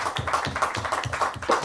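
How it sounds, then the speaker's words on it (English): Audience clapping at an evening talk on ecological intelligence: a short run of rhythmic hand claps at a steady, even beat, close and moderately loud. "Give a round of applause."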